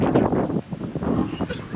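Wind at a hotel resort in Courtallam, a loud gusty rush buffeting the microphone, rising and easing in waves with no pause.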